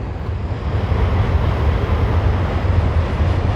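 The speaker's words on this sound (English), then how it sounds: "we have the actual ambiance of a train or two" A train rolls past the Route 66 Historic Village park in Tulsa, a steady, loud, broad rumble that holds for several seconds with no voices.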